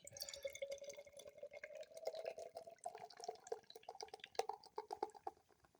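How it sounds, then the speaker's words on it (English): Imperial stout is poured aggressively into a glass, a faint, close gurgling stream with a rising pitch as the glass fills, breaking into bubbly glugs toward the end, with no talking. "Right, so I poured pretty aggressively there."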